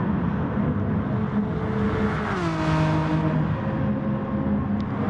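Race cars in Gran Turismo Sport battle into a corner at Monza, engines droning loud and steady with a rising and falling pitch as they brake and shift through the turn.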